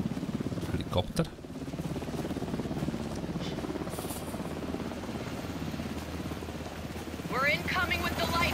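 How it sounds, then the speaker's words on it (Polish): Helicopter in the video game Alan Wake II, a steady rotor drone with a throbbing low pulse running throughout under a man's speech, with a few brief sharp game sounds. "Helikopter?"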